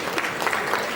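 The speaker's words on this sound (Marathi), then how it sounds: "जोरदार टाळ्या सगळ्यांसाठी" An audience at a Marathi film event for the movie Chandramukhi claps in a brief, moderate burst of scattered applause.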